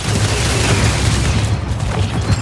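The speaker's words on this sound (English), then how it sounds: "Its prime ability is Search and Destroy, which activates shoulder-mounted missile pods that fire heat-seeking missiles." Shoulder-mounted missile pods fire heat-seeking missiles in the Marathon video game, a dense, loud rush of booming launches and blasts running together without pause.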